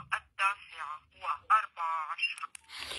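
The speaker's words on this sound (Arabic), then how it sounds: "خلينا نسمع نغمة الجهاز نغمة الجهاز كلش عالية" A Nokia 1650 mobile phone ringtone, a bright electronic melody in quick bursts of short tones, loud and close, with a pause near the end followed by a noisy crackle.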